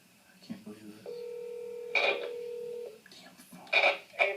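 A telephone gives out a steady electronic tone lasting about two seconds, surrounded by short, bright keypad-like beeps and bits of nearby talking.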